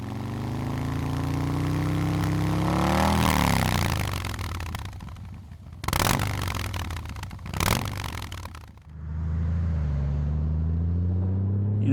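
A Honda Gold Wing motorcycle cruises through the DFW area, its engine droning steadily with rising and falling revs, rushing wind noise and a couple of sharp bursts of passing traffic.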